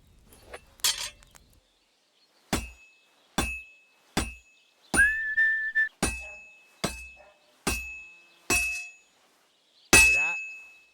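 A hammer strikes hot metal on an anvil at a smithy in the game Kingdom Come: Deliverance II: about nine loud, separate clanging blows at a steady pace, each leaving a brief metallic ring.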